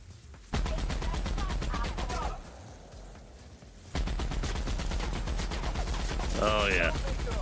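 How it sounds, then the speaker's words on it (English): Machine-gun fire in The Outer Worlds video game rattles in sustained rapid bursts, loud and close, with brief lulls between volleys and voices talking over parts of it. "I'll use his machine guns."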